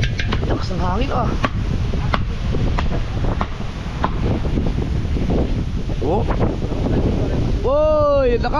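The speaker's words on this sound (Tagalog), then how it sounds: "Lakas ng hangin ah." Strong wind buffets the microphone in a steady roar, with surf and water chop behind, while people talk loudly over it throughout.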